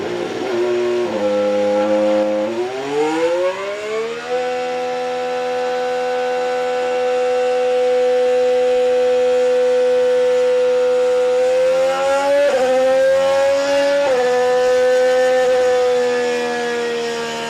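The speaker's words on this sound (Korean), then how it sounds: "메르세데스의 새로운 엔진 발표가 있었기 때문에 메르세데스 엔진 소리도 들어보겠습니다." The 2026 Mercedes Formula 1 power unit screams loud and up close. Its pitch climbs through a few quick gear shifts, then holds a long, sustained high-revving wail with brief pitch steps later on.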